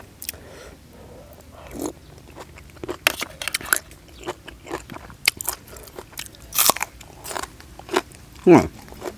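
Roasted dung beetles crunched between the teeth at a meal with bamboo shoot curry and mushrooms, loud crisp bites and crackling chews coming in irregular bursts up close, with people talking in between.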